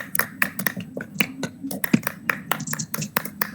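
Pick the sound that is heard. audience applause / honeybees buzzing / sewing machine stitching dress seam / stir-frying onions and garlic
audience applause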